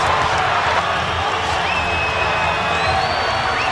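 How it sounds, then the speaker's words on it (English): A dense arena crowd at a boxing match roars and cheers without pause, a loud, continuous wash of voices with a few whistles cutting through. "And the crowd stands and cheers Roy Jones."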